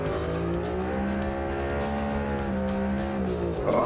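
A car engine in the video game Automation revs steadily, its pitch climbing and then easing off, loud and close with a rough, harmonic whine for a few seconds.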